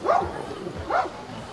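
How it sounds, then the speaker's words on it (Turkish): Two loud dog barks spaced about a second apart at a dog show, close and clear, over a low murmur of background noise. "Evet, bunlar da av köpeklerimiz"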